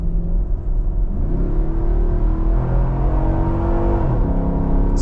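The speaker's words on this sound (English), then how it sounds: "You heard the side exit exhaust open up. It opens up usually at full throttle or at certain RPM." A 2025 Nissan Patrol Warrior accelerates at full throttle from about 50 km/h, its side-exit exhaust opening up: a loud, steady engine roar with rising harmonic tones as revs climb, heard from inside the cabin without talk.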